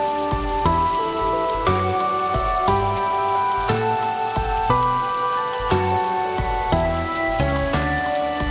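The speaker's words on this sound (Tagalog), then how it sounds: "malakas yung ulan at hangin" Heavy tropical-storm rain and wind pour down steadily outdoors on an island in the Philippines, a loud continuous wash with no voices, while sustained tones and rhythmic hits sound over it.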